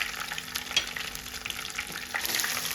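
Garlic cloves and curry leaves fry in oil in a pan, giving a steady crackling sizzle with small pops and faint stirring, close and unaccompanied by any voice.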